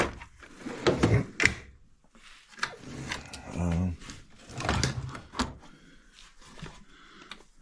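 Drawers on a U.S. General stacked ten-drawer tool cart slide open after being unlocked, giving several rubbing, rolling pulls with a clunk or two, close by, while someone talks briefly.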